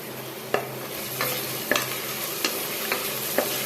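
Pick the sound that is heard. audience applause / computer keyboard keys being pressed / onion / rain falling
onion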